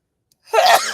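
A single sharp human sneeze, loud and close, bursting out after half a second of silence and trailing off briefly.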